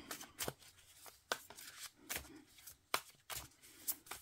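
Oracle cards being shuffled and handled, a series of sharp papery riffles and slaps about every half second to second, close and fairly quiet, with no talk.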